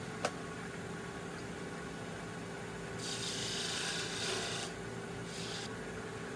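A tool scrapes along the wood of a baseball bat in steady rasping strokes, with a brighter, harsher stretch of scraping midway and a shorter one near the end, close and continuous under a constant background hum.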